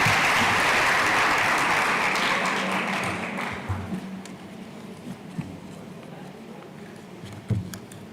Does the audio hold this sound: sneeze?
no